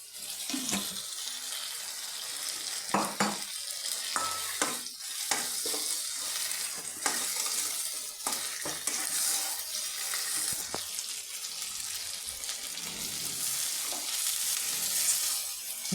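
Spices with a little gram flour being sautéed and stirred in a pan, with a steady sizzle under repeated spoon scrapes and clicks, close and continuous.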